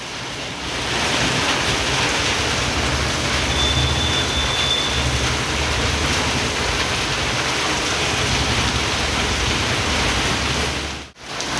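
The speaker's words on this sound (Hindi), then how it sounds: "आज जो है बरसात एकदम ज़्यादा हो रही है" Heavy rain pours down outside a coaching class in a steady, loud, dense hiss that holds without a break, briefly dipping near the end, with no talking.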